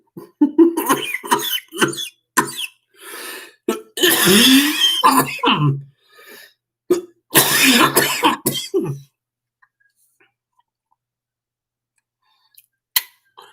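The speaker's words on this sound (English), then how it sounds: "I apologize for the coughing, people." Several harsh coughs and throat clearing in bursts, close and loud, followed by a long near-silence with a faint click at the end.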